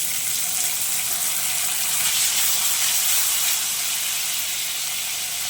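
Potatoes and peas fry in two spoonfuls of oil in a pan for a mixed vegetable paneer dish, giving a steady, close hiss and sizzle with no break and no voices.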